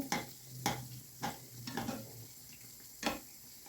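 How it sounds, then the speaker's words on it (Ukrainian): Liver-filled pies frying in a deep pan of oil give a faint background sizzle, broken by several sharp clicks and knocks of a utensil against the pan at irregular intervals. "тільки тоді вже смажити у великій кількості олії"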